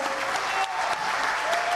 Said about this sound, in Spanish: esos aplausos que se escuchen de aquí al otro lado del mundo